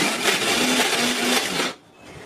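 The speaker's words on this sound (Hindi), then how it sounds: "इस तरह से हम रुक रुक के मिक्सर को चलाएंगे।" A kitchen mixer grinder runs in a short burst grinding lentil batter for dahi bhalle, a loud steady whir lasting under two seconds before stopping abruptly into near quiet.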